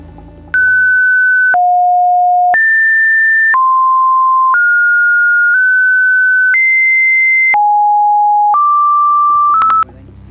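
A sequence of pure electronic sine tones, about nine steady one-second notes at shifting pitches, loud and clean against silence and ending in a short flurry of higher beeps.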